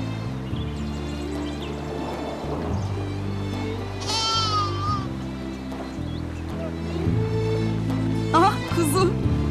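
A lamb bleats in wavering cries, rising over a steady background hum, with a second shorter bleat near the end.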